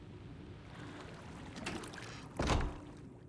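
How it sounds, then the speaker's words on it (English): Moving water fills a dark flooded room in the Alan Wake II video game, a steady low wash and trickle with a louder surge and splash near the end, no voices. "you instead hear nothing but moving water"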